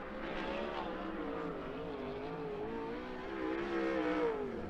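A 410 sprint car engine drones steadily at a racetrack as the car powers off the track, its revs sliding up and down in a continuous mid-distance roar that swells slightly toward the end.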